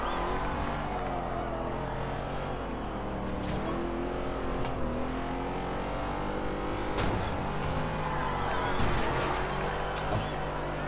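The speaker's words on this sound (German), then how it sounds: "Kurz den Motor hören." A car engine in the racing video game Forza Horizon 2, played with a wheel, revs and shifts pitch continuously, rising and falling as it accelerates, with a steady drone throughout and brief bursts of higher whine.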